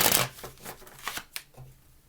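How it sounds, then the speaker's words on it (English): Tarot cards are shuffled by hand in a few quick riffling bursts, close and crisp, with short pauses between each pass. "3 shuffles, please."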